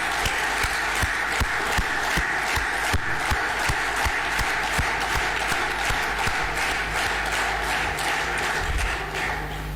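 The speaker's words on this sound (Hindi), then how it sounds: "नेक्सफ परिवार के उन सभी सदस्यों के लिए जोरदार तालियां" A large crowd applauds at a business company gathering, producing loud, thick, continuous clapping with crowd noise beneath it and sharp individual claps punching through.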